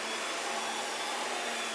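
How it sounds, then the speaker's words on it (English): A Panasonic MC-CG917 Opti Flow canister vacuum cleaner runs close by with a loud, steady airy whoosh and motor roar that stays even throughout, with no voices. "And now we are able to vacuum all the way up against the wall."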